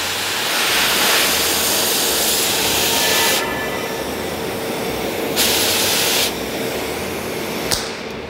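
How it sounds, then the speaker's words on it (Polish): An acetylene gas cutting torch, lit and set to a heating flame, hisses loud and steady at close range with a broad roar that shifts level briefly a few times. "Odpalamy acetylen, tu pokażę jeszcze raz, zapalniczka"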